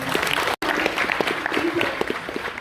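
An audience at a homeschool senior theater production of Mary Poppins breaks into a round of applause, dense clapping from many hands filling the room with some crowd noise mixed in.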